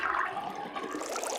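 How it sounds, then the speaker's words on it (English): Water drains noisily from a sink in the video game Zero Time Dilemma, a steady gurgling rush that holds throughout at moderate loudness, with no speech. "The sink on the left is making noise."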